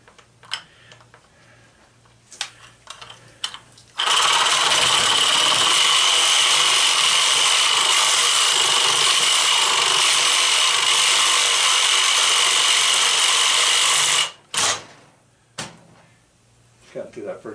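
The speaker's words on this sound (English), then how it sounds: "So I got me a backup sawzall." A backup Sawzall reciprocating saw cuts through an electric motor being scrapped for copper: a loud, continuous buzzing rasp running about ten seconds, framed by a few knocks and clatters before and after.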